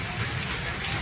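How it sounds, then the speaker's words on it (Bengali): Heavy rain pours down in a steady, dense hiss that lasts the whole brief moment. No voices are heard. "খুব বৃষ্টি হচ্ছে, আজ প্রচুর বৃষ্টি হচ্ছে"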